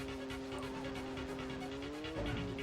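A truck in the racing game Screamer 2 drives a snowy track, its steady engine drone rising into a brief tire squeal or skid near the end, loud and continuous with no talk.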